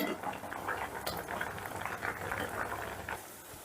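Yakhni stock boils with potatoes in a pot, a continuous dense bubbling and gurgling, close and steady throughout with no talk.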